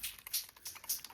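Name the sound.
water sprayed onto paper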